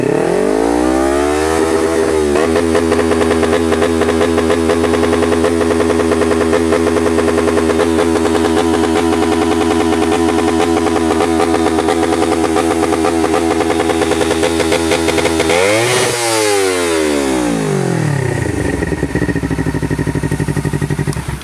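A Honda CBR 250RR engine with a quickshifter is revved in neutral and held at about 10,000 rpm, producing a loud, steady high-pitched wail that holds for many seconds, then drops abruptly and picks back up.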